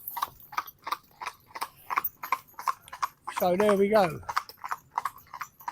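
A pair of harnessed horses, Smokey and Chew, walk together in traces, their hooves clip-clopping in a steady, even rhythm close by, while someone speaks briefly partway through.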